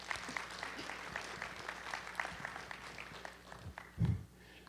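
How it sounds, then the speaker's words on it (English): A modest audience in a briefing hall claps for a presenter named Suzanne, a soft, steady patter of hands at moderate distance with a brief louder thump near the end. "Let's give Suzanne another round of applause"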